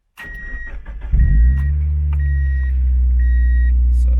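An NB Mazda Miata engine with an ISR exhaust cranks briefly and then roars to life, settling into a loud, steady idle, with a faint repeating electronic chime above it.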